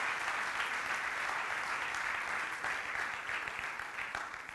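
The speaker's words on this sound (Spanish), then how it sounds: "Un aplauso otra vez para ellos." An audience applauds at a youth creators' awards ceremony with steady, dense clapping that holds throughout and eases slightly at the close.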